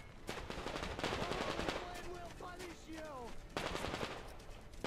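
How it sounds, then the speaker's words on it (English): Bursts of automatic gunfire from Metro Exodus rattle in repeated volleys across the five seconds, loud and close, with a voice talking over parts of the shooting. "Are they shooting at me? What the hell are they shooting at?"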